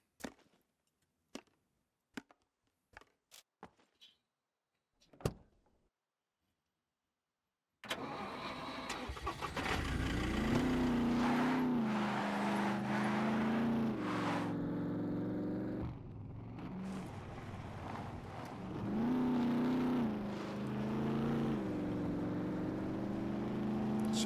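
In the SCUM survival game, a few sharp clicks are followed by a pause, then a vehicle engine cranks into life and runs loudly as it drives off, its revs swelling and settling, with no talk.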